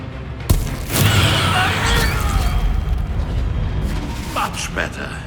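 A Confringo spell explosion bursts in Hogwarts Legacy, a sharp loud boom and crackling blast that rolls on as a sustained rumble, with smaller pops and magical shimmer trailing after.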